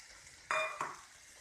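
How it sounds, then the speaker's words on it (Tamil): Puffed rice being stirred in a hot pan for a village-style masala snack, two quick scraping, rustling strokes against the metal surface, close and fairly quiet, with no talk. "அந்த ஹீட்லேயே பொரியை கொட்டிட்டு ஒரு வதக்கிடலாம்."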